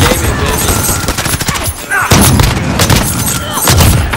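Shotgun gunfire in the shooter game Call of Duty: Modern Warfare comes as a loud, dense barrage of blasts and booms, firing in quick irregular bursts with brief pauses between volleys, close and dominant.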